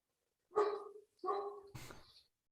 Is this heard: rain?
no